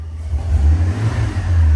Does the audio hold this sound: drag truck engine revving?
yes